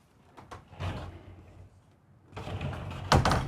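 Cabinet doors with snap latches inside a Renegade Verona 36VSB RV give a few quiet, close clicks and soft knocks, with a louder snap near the end.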